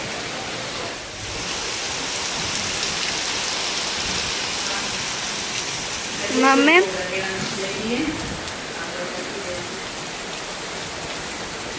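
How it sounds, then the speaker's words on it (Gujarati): Heavy monsoon rain pours down outdoors in a continuous, loud, even roar, steady from start to finish, with a single short voice calling out about midway. "વરસાદ આવ્યો અને એકદમ તૂટી જ પડ્યો વરસાદ"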